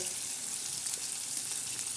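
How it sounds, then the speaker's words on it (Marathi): Onion tempering frying in a pan for a chickpea-style peanut usal, with a constant soft sizzle and faint stirring close by, no voices. "ते परतत आहे परतत आहे म्हणजे फोडणी बसत आहे कांद्याची चांगली"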